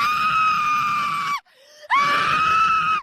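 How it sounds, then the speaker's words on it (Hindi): A woman's drawn-out, high-pitched scream rings out loudly in two long bursts with a short gap between them, suiting a horror story set in a dark room. "मिनी चीखती चिल्लाती रही,"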